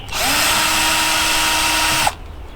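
Power driver with a T15 bit whirring steadily to back out the side screws of an old BMW E46 steering wheel, one continuous close run of about two seconds that cuts off abruptly.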